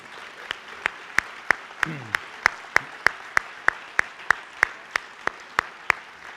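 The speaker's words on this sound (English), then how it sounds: "You deserve a round of applause." Sharp, evenly spaced claps in steady unison rhythm, about three per second, over a soft background murmur.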